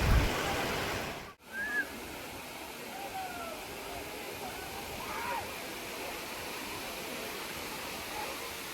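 Dudhsagar waterfall in Goa gives off a continuous broad roar of falling water, steady and moderately loud after a brief dip near the start, with faint voices now and then.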